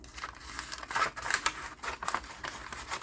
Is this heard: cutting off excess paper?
yes